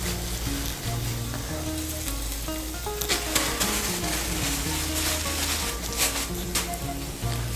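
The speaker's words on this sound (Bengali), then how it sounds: "নুন, চিনি আর কাঁচা লঙ্কাটাকে মিশিয়ে নেব মশলার সঙ্গে।" Salt, sugar and green chili stirred into frying spices in a pan for Bengali ghugni, with a steady close sizzle and occasional scraping stirs.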